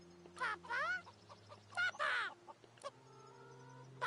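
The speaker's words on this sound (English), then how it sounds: "Behold, it is I, the magic cockerel." A cockerel crows in the video game Divinity Original Sin 2, a few squawking, rising calls among game sounds and short bursts, fairly quiet.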